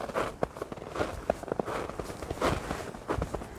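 Footsteps walking along a forest trail, a steady, close series of soft crunching steps on the ground at a relaxed pace.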